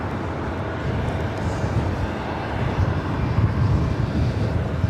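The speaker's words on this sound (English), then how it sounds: "Next arrival here on the north side, Southwest Airlines flight 2678." A Southwest Airlines Boeing 737-700 arriving at LAX, flown in from Sacramento, gives a steady, loud, broad engine roar that swells slightly toward the end, with no voices over it.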